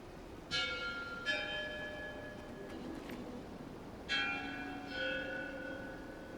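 Bells in a bell puzzle in the Guild Wars 2 video game ring out with bright metallic tones, four distinct strikes in two pairs, each one ringing and decaying over moderate ambience.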